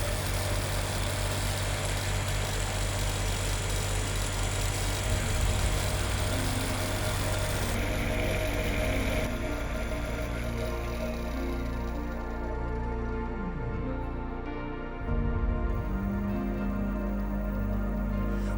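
A car alternator converted into a 10 kW electric motor-generator runs steadily on a 55-volt DC controller at up to 2,875 RPM, a loud continuous hum with a whine that shifts partway through.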